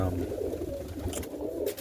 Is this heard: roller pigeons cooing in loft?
yes